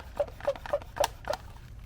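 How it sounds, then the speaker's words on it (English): A hand pump on a pressure sprayer for cleaning a headstone works in a steady rhythm of about five squeaky, airy strokes, close and fairly quiet. "Then we've got to pump this up."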